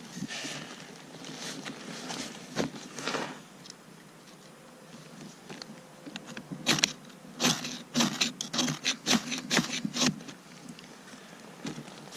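Repeated sharp scraping strikes on a solid fire steel bar, some quick bursts clustered together, close by over a low outdoor background hum.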